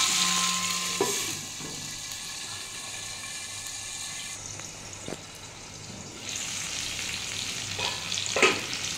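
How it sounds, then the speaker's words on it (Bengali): Potatoes and tomatoes fry in a pan with a steady, close sizzle, a clatter of stirring near the start and end, and a quieter, muffled stretch in the middle. "আমার আলুটা ভাজা হয়ে গেছে লাল লাল করে, টমেটোটাও নরম হয়ে গেছে"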